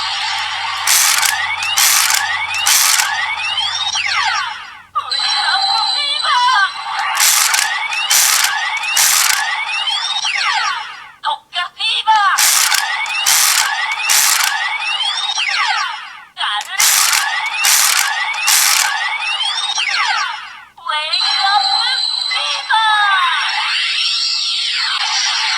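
Loud electronic attack sequences from a CSM Tatsulot toy (Masked Rider Kiva) repeat four times, each a run of bright bursts and rising sweeps with a synthesized voice phrase, separated by brief pauses.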